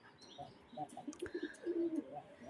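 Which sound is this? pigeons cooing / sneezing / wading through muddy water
pigeons cooing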